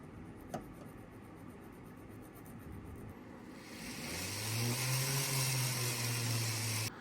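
A polishing machine spins up against a gold piece after a few seconds of near quiet. The motor hum then rises into a loud, steady whir that holds until the end.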